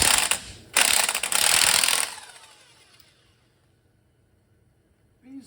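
A ratchet wrench loosens 19 mm bolts on a GM 5.3 engine, giving two close bursts of rapid clicking. Quiet mechanical ticking follows, then a short noise at the end.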